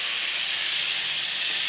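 Katla fish pieces sizzling in hot oil with a spiced potato masala, a steady close frying hiss with faint stirring, no voices.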